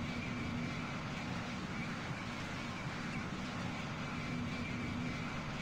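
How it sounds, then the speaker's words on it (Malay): Steady aircraft engine drone from a Concorde in the Roblox flight game, a continuous broadband roar with a faint tonal hum, constant and fairly quiet throughout with no talk. "Ada pesawat lain lah."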